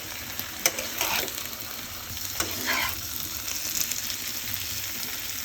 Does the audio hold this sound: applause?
no